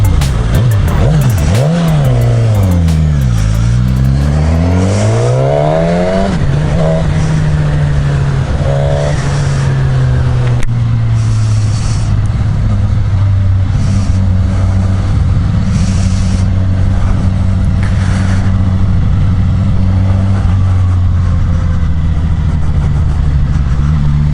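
A 2015 Suzuki GSX-S1000 motorcycle engine on a test ride, loud and steady, with sweeping rising and falling revs early on before settling into a constant cruising drone with wind noise.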